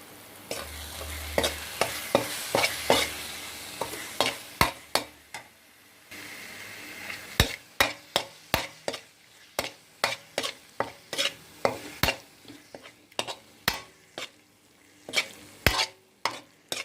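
Chicken gravy stirred in a pan on the stove, a steady series of sharp spoon scrapes and taps against the metal over a low simmering bubble, loud and close with no voices.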